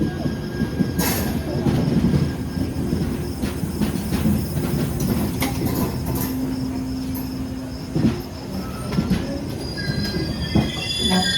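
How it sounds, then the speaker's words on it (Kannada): A train rolls past inside a railway station, with steady rumbling and clanking wheels and occasional squeals carrying on for the whole stretch and no talk over it. "ನಮ್ಮ ಟ್ರೈನ್ ಪಕ್ಕನೇ ಹೋಗ್ತಾ ಇದೆ"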